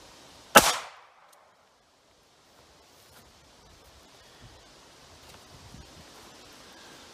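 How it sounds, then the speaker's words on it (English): .38 Special 150-grain hard cast wadcutter fired from about five feet into a ballistic gel block, a single sharp loud gunshot near the start with a brief decaying tail, then quiet outdoor ambience. "Shooting from about 5 feet."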